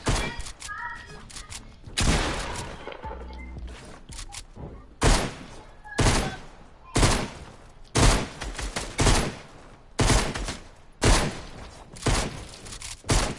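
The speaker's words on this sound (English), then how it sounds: "all I see is pistol shots" Pistol shots in a video game fire loud and close in an uneven series of sharp bursts, roughly one to two seconds apart, over a background of game noise.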